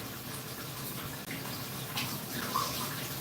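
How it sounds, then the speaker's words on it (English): Water runs steadily from a tap to wet a scrubber, a soft, continuous splashing rush heard close and alone. "I have to get the scrubber wet."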